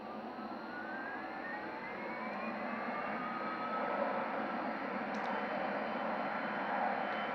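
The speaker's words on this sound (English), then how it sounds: "You can see the thrust reverse." Simulated Boeing 787-9 engines roar in thrust reverse during landing rollout in Microsoft Flight Simulator, a loud steady broadband rush with a faint rising whine, no talk.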